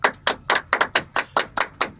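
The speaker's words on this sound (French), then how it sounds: "sous vos applaudissements." Rhythmic clapping greets a guest on a Radio Balafon interview show: about nine crisp, evenly spaced claps at roughly four per second, close and clear, with no voices over them.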